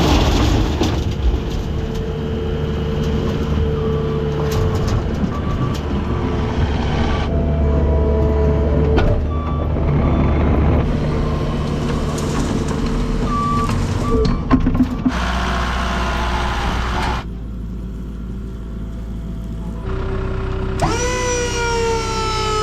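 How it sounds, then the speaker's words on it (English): A Takeuchi TL8 skid steer runs steadily with a loud, continuous engine drone and hydraulic whine that shifts in pitch as it works, and a brief drop in level partway through. "I think that's probably got to be one of the strongest, quickest little skid steers I've ever been on"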